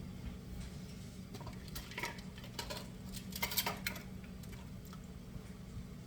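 Quiet, irregular knife taps knock against a cutting board, with a few sharper clacks clustered in the middle. There are no voices.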